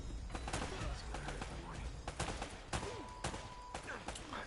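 Dense, continuous gunfire from an Uncharted shootout, with rapid bursts of shots and sharp cracks over a steady din of combat noise, loud and close throughout.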